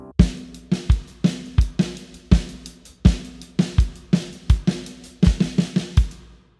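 Drum groove of hi-hat, accented snare and kick drum, played as a steady two-bar pattern, with deep kick thumps under crisp snare hits, up close and with no voices.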